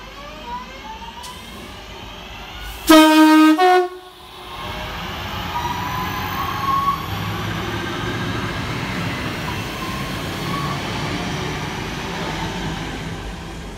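A CrossCountry Class 220 train, unit 220012, runs through Kidsgrove railway station. A loud two-tone horn blast is followed by a sustained rushing roar as it passes close by.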